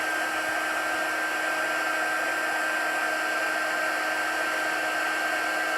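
A heat tool blows with a steady, loud, whirring hiss without a break, melting embossing powder for a faux wax seal up close.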